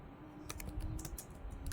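Typing on a computer keyboard while entering a name into a web page file, heard as a quick run of close, light key clicks with a steady low hum underneath and no talking.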